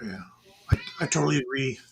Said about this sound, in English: I heard cat meow in the background,